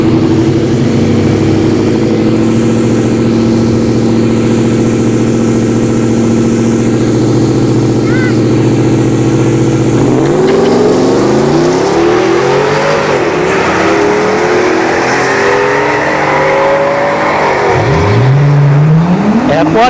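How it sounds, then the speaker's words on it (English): Ford F-150 Platinum pickup and Porsche Panamera drag racing at a dragstrip: a loud steady engine drone, then engines rise and shift through rising sweeps as the vehicles launch and accelerate hard, with occasional voices in the background. "We've got the F-150 Platinum and a Porsche"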